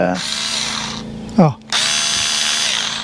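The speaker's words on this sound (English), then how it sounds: "cordless drill" A small cordless drill whirs steadily up close, briefly cutting out with a short clunk before spinning up again and running on.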